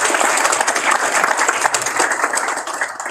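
Audience applause at a World TB Day proclamation signing on Guam, a room of many hands clapping loudly and steadily before tapering slightly at the end.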